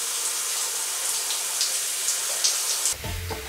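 Steady spray of water pouring and splashing over a person bathing, a constant hiss close by, with a clatter of handling noise at the end.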